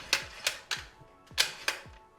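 Sharp mechanical clicks from a scope-mounting torque wrench tightening the action screws on a budget precision rifle build, five distinct close clicks in an uneven rhythm.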